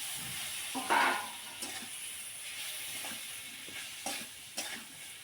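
Grated radish stir-fried in a pan with coriander powder, cumin powder and salt gives a soft, steady sizzle, broken by a few scraping stirs of the spatula. No one speaks.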